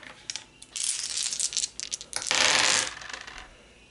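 Dice from the Elder Sign board game clatter and roll across a table in a quick rattling burst, then a louder, denser tumble before settling, close and alone without talk.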